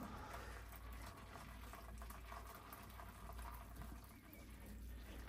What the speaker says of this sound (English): fill it up until it goes halfway up to the spring pan